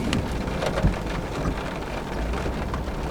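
Heavy rain drums steadily on a slow-moving vehicle towing a trailer and tank along a muddy road, a dense continuous patter with a few louder drops, close and alone.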